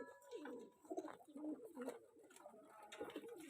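Pigeons coo softly and repeatedly nearby, overlapping low throaty calls in an uneven rhythm with no talking.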